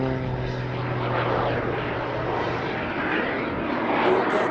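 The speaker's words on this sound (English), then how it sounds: "They're AMT engines from Holland, 2 engines, approximately 350 pounds of thrust from each engine." A Pitts biplane fitted with twin AMT jet engines from Holland, about 350 pounds of thrust each, flies at an airshow at Duxford, giving a steady, loud, broad roar that swells slightly as it passes.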